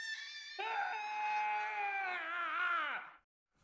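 A child screams in fear in a horror film, a long, loud, sustained wailing shriek that wavers and bends downward before cutting off, heard alone without talk.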